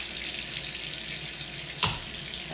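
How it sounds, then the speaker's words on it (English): Hot water runs steadily from a kitchen faucet into a sink, a close, even hiss with one brief splashing knock near the end and no voices. "I turn the water on hot"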